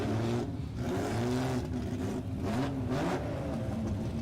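Drag cars sit on the start line, a turbo 2J-powered RX2 coupe and an RB30 Commodore, their engines revving repeatedly in rising and falling bursts, loud and close, with no talk.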